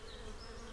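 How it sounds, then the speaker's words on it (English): Bees buzzing in a Thomas & Friends cartoon, a steady low droning hum that fills the short moment evenly with no voices over it. "Then the bees will buzz around my flowers and back to their hives."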